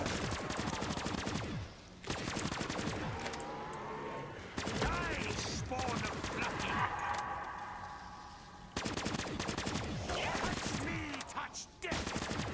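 Repeated bursts of automatic gunfire from a gun in Call of Duty Black Ops III during a high-round zombies run, loud sustained volleys broken by short pauses, with game sounds and faint voices mixed in.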